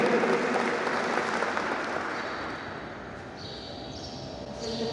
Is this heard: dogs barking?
no